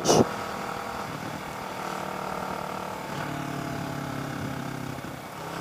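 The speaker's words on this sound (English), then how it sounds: "this bike has the arrow slip-on exhaust" Kawasaki Ninja 650 motorcycle fitted with an Arrow slip-on exhaust, idling with a steady, loud engine drone that holds evenly throughout, the rumble shifting slightly partway through.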